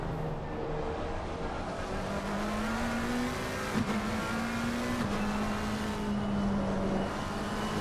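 McLaren GT3 race cars battle on track, a steady sustained engine drone with a rising and falling tone throughout, loud and continuous with no talk.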